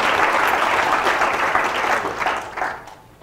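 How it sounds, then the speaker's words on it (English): An audience gives a speaker named Wing a steady burst of applause, dense clapping that holds loud for about two and a half seconds before fading out. "All right, so how about a big applause for Wing?"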